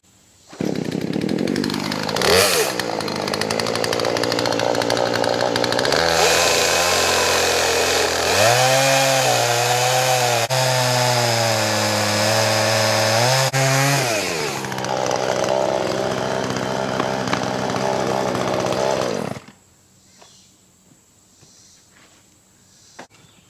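A chainsaw trims the end of a tree log, snarling loud and close for nearly twenty seconds. The engine revs rise and fall as it bites through the wood, then it drops away to near silence.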